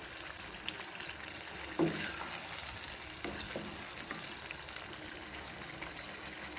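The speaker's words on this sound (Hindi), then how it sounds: "अब हम 5 मिनट इसको भूनेंगे।" Steady, loud sizzling of chicken korma frying in a pan, continuous throughout with a few faint stirring knocks and no talk.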